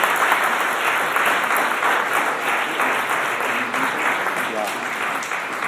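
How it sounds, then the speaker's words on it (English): A warm round of applause from the audience at a Taipei–Atlanta sister-city 40th anniversary reception, steady dense clapping filling the room for several seconds with a faint voice or two mixed in. "So please join me in giving them a warm round of applause."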